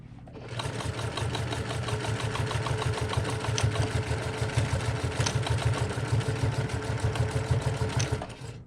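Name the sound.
sewing machine back stitching a tote bag seam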